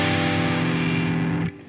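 One sustained distorted electric guitar chord, a minor one chord, loud and heavy with a steady ring before abruptly stopping.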